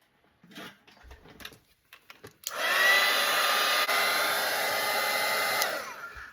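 Hair dryer drying a watercolour painting of a Grinch wreath: after a few soft taps and brush handling sounds, the dryer switches on with a steady, loud whooshing hum that runs for several seconds before cutting off.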